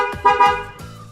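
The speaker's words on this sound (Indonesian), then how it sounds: "klakson standarnya diganti pakai klakson yang Denso seperti ini suaranya" A Denso single-tone horn fitted to a Honda ADV 160 scooter in place of the stock horn gives a few short, loud, close honks with a sustained buzzy tone between them.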